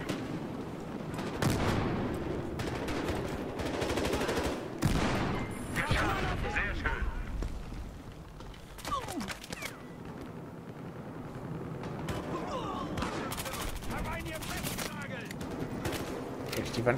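Battlefield Hardline gunfight: rapid bursts of gunfire and scattered single shots, some near and loud, others more distant, with someone speaking over parts of it.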